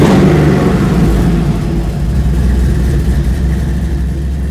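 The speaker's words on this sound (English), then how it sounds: "And the motor just sounds amazing." A classic Chevy truck engine runs loud and steady, a deep rumbling idle with a slight dip in level partway through and no voices.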